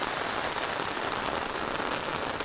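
Heavy typhoon rain pours steadily onto a field being planted with corn, a dense, even hiss of drops hitting the ground that stays loud and constant throughout with no voices.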